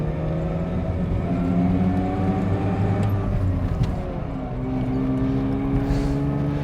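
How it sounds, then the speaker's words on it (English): Interior of a 1985 Mazda RX-7 with its rotary engine running: a steady, loud drone with layered whines and buzzes that rise and fall in pitch around the cabin, continuous throughout with no talking. "I'm hearing buzzing, I'm hearing whining at random areas just surrounding me."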